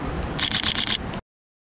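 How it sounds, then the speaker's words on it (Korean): A Sony A7 III camera fires its shutter in a quick burst of about five or six crisp, evenly spaced clicks while photographing flowers, close and fairly loud, with no talking. "셔터 소리가 뭔가가 사무라이가 칼로 자르는 거 같지 않습니까?"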